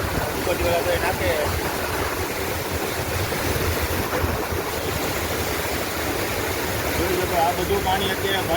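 Floodwater rushes across a washed-out road between Gondal and Vora Kotda, heading toward the Bhadar dam, a steady dense roar of flowing water that runs the whole time, with people talking over it.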